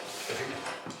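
Ratchet tightening a bolt on a pellet burner ignition, heard as a short, close burst of rapid clicking that lasts about a second.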